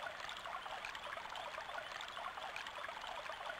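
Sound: flowing water stream in the video game Alundra

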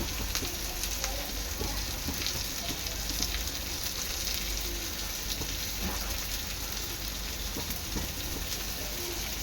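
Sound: fish roe frying in a pan with garlic and curry leaves

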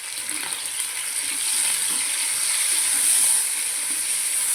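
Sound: frying garlic paste with mustard seeds

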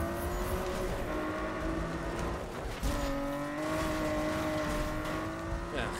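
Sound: race car driving in the video game Need for Speed

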